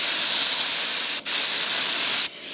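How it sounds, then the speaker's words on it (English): A paint spray gun gives a steady, loud hiss of pressurized spray while painting an Eclipse car, running continuously, briefly cutting out twice before resuming. "it's starting to spray now."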